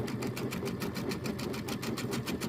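A sewing machine with an automatic belt feed stitches quilt square pieces, its fast, even mechanical whir and needle chatter running steadily, close and continuous, with no voices.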